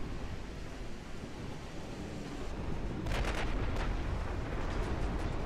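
Naval guns fire armor-piercing shells in the warship game Ultimate Admiral Dreadnoughts, a rumbling boom about midway followed by a few crackling bursts over a constant roar of sea and battle ambience.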